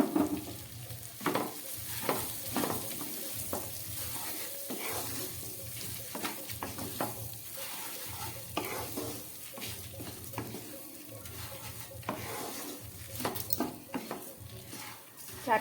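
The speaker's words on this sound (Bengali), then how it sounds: "প্রায় 2 মিনিটের মতো চালটাকে আমি ভালো করে ভেজে" Gobindobhog rice coated in ghee, salt and turmeric frying with bay leaves in a pan, a quiet sizzle broken by repeated scraping stirs and spoon knocks against the pot, plus a regular low hum in the background.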